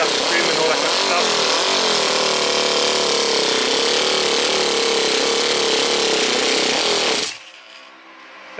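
A four-stroke nitro RC car engine runs at its first start, a loud, high-pitched buzzing drone held steady for about seven seconds before abruptly cutting off.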